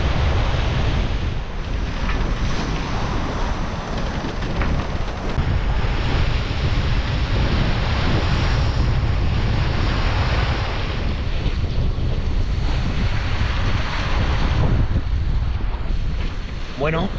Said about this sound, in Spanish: se ha metido mucho viento al final, 28 nudos